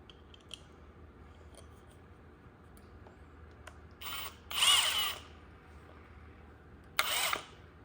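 Power drill driving a screw through wood while building a wooden plant stand, two short whirring bursts after scattered clicks and handling noise, fairly faint and close.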